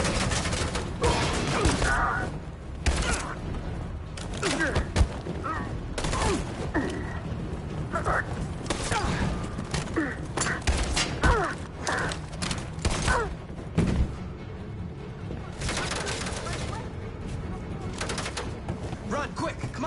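Dense suppressing gunfire in the video game Detroit: Become Human, with rapid, continuous bursts of shots crackling loudly and close throughout, mixed with shouting voices.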